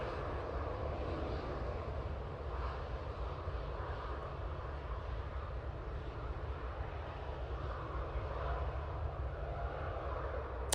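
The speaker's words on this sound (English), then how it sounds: "Oh, very nice landing there from the Virgin. Absolutely buttered that." A Virgin airliner landing at Manchester Airport produces a steady, distant, low engine roar that holds evenly throughout with no talk.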